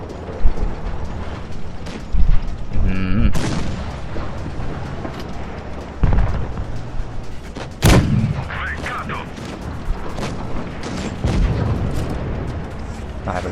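Tank cannon shots in the World of Tanks Blitz battle game, with the Progetto 65 tank, come as several loud, sharp booms spaced across the clip, and someone talks excitedly between them.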